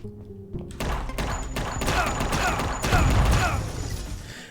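Gunfire tears through enemies in the video game UnMetal, a fast run of sharp, punchy shots and mechanical clanks that builds in loudness over a few seconds.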